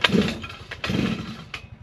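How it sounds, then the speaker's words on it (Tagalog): A two-stroke grass cutter engine being started, with sharp bursts of engine sputter and pull noise close by, in two or three quick uneven spurts. "Tapos paandarin na natin tong ating grass cutter."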